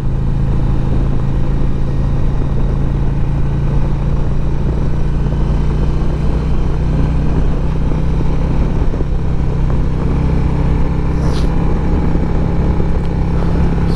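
A steady engine drone from a 2023 Harley-Davidson CVO Road Glide motorcycle cruising along the road, continuous and loud with constant road and wind noise throughout.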